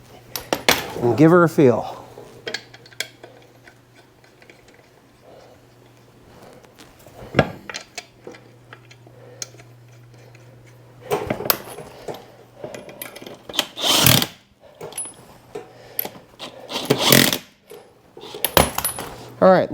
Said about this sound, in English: I'm just going to put a couple of lug nuts on there